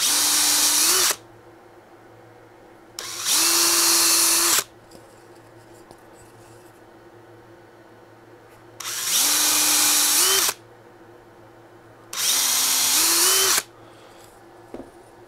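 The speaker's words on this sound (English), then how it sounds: "You have drilled some pilot holes for your nails so you don't split anything." A power drill bores pilot holes for nails in wood in four loud, close bursts of a few seconds each, its motor whine rising as it spins up, with quiet gaps between them.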